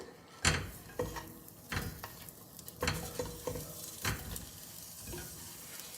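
Chopped longaniza sausage sizzles in its own fat in a small pot while being stirred, with soft steady frying punctuated by several distinct scraping, clanking stirs close by.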